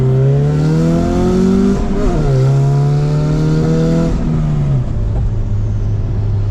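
A rowdy project car called the Confusion revs hard and accelerates on its first test drive, engine note climbing in strong harmonic sweeps, dipping and rising again, loud and close with no talk.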